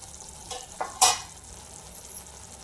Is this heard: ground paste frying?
yes